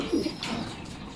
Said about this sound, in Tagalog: Yun guys, papatokan na tayo ng ibon.